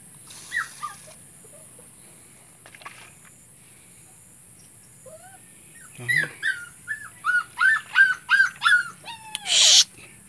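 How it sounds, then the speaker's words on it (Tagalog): A small dog whimpers and cries in a rising series of short, high yelps, growing louder toward the end, with a faint earlier whine and no talk. "May asong maliit. Ito nga siyang maliit, iyak."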